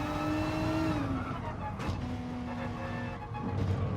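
Renault Group 3 race car in Gran Turismo Sport, a steady engine drone with shifting pitch as it accelerates and brakes through corners, with brief tyre squeal, loud and continuous throughout.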